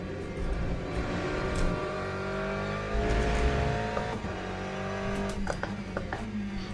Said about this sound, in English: It's got a really smooth V8 sound to it.